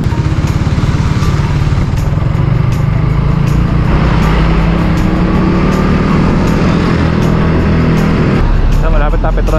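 Busy road traffic rumbles past close by as a motorbike is pushed along the roadside, with steady engine noise throughout and people talking over it.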